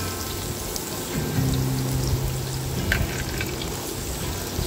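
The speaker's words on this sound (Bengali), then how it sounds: "গাজর ভাজা অনেকটা হয়ে গেছে। এর মধ্যে দিয়ে দিচ্ছি ক্যাপসিকাম কুচি" Carrots and chopped capsicum fry in a pan, giving a steady close crackling sizzle like light rain, with a low tonal hum running through.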